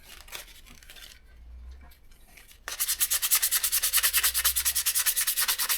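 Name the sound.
rubbing rust off Yamaha XS 250 brake surfaces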